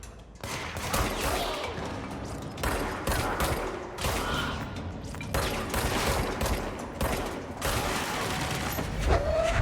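Sustained gunfire in the video game Control, a dense fusillade of shots with heavier booms mixed in, loud and continuous across the whole stretch.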